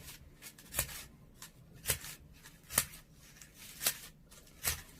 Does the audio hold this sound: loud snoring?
no